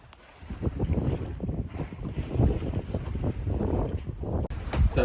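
A sailboat beating upwind at 5 knots in the Bahamas, with heavy wind buffeting and low rushing water against the hull, loud and steady, with a brief dropout near the end.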